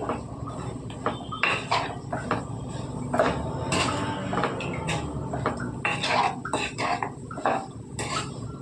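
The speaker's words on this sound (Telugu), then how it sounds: "బాగా కలిసేలా కలుపుకోవాలండి" A spoon scrapes and knocks against a pan as ridge gourd curry with turmeric is stirred, making a busy run of close metallic clinks and scrapes with an uneven rhythm.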